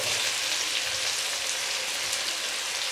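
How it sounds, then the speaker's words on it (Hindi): Green onion with chili, tomato, green chili and ginger-garlic paste frying in a pan for aloo ka bharta, a steady bright sizzle throughout with no voices. "अब हम इसको थोड़ी देर फ्राई करेंगे"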